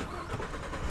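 A car or truck engine sounds in a brief burst, a close, rough mechanical churning like an engine catching and turning over, steady and moderately loud throughout.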